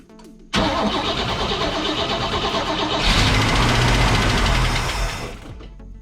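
A 1959 pink Cadillac with fresh gas in the carburetor, cleaned points and checked plugs cranks, catches and starts, then runs loud and steady close by, with a clattery idle from noisy lifters and sticking valves.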